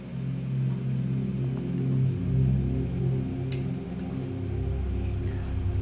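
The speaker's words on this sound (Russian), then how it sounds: "И я использую такой просто как бы жуткий гул." An eerie low rumble used as a sound effect in an interview edit drones steadily and darkly for several seconds, alone, with faint scattered higher ticks.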